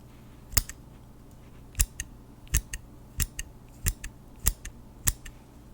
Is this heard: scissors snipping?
yes